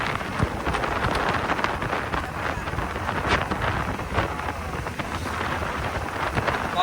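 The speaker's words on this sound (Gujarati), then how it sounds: "પવન બહુ વધારે છે આજે" Strong wind buffets the microphone at an outdoor spot near a new bridge, a continuous rough rumble with irregular gusty bursts and no clear speech.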